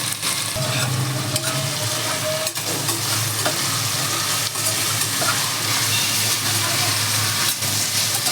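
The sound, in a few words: stirring vegetables frying in a pan for Gujarati undhiyu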